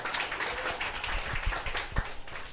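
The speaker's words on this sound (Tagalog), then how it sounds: "Sipo, palakpak po, palakpak." Seminar audience applauding, a dense, steady wash of many hands clapping at once, fairly loud and continuous for a couple of seconds.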